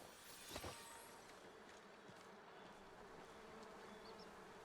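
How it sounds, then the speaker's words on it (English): Bees buzzing near a beehive in the video game Palia, a faint continuous insect drone that holds steady throughout, with one brief louder bump early on. "I hear bees."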